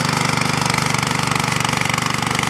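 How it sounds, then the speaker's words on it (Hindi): A back rotary power tiller engine runs close by, loud, steady and thumping with a fast, even pulse and no pauses, with no voices over it. "इसकी आवाज़ तो बिल्कुल आपने रिफाइंड कर दिया, ऐसा लगता है कि DI का कोई ट्रैक्टर चल रहा है"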